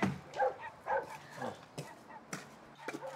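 Several dogs bark faintly and irregularly at some distance, with short yips and woofs spread across a quiet indoor scene in a comedy film.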